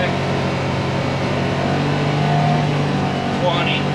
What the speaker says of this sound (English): I'm in low gear right now, so about 20 in low gear